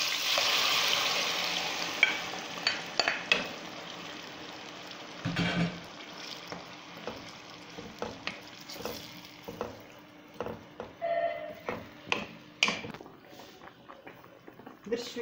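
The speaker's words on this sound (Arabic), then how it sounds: "درنا الزيت العود، احنا غنديرو دابا مطيشه" Tomato frying in olive oil in a pan for pizza sauce, a sizzling hiss that starts loud then eases, punctuated by spoon clacks and stirring taps, close and without talking.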